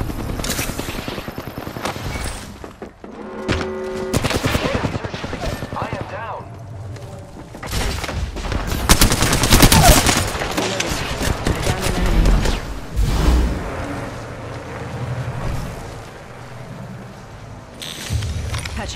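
Rapid bursts of automatic gunfire and single shots from the video game Apex Legends crackle close and loud, with overlapping volleys, thuds and mechanical clicks, while a character voice speaks between the shooting.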